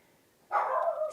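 A single dog bark, close and fairly loud, bursting in after a quiet moment indoors and trailing off over about half a second.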